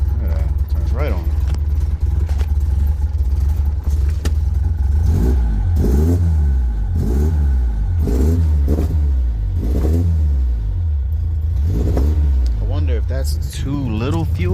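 A 1972 Toyota Corolla TE28 with carburetor and fuel trouble idles loudly, then is revved in a series of repeated, rising and falling blips, close up.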